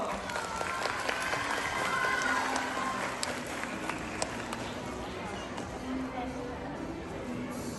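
An audience applauds at a graduation ceremony in Phnom Penh for academic year 2024-2025, with sustained, crowded clapping and sharp individual claps, while a voice is heard over the applause.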